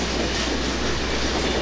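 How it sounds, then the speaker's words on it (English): A Conrail freight train street-runs through Warsaw, Indiana, rolling close and steady with a dense rumble and clattering wheels on rail. "This train ran once a day both directions"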